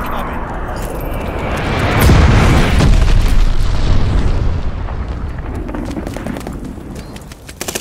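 A glide bomb detonates in the Call of Duty Vanguard multiplayer video game, a heavy booming blast that swells to a rumbling peak and slowly decays amid dense crackling battlefield noise, with scattered game voice callouts over it.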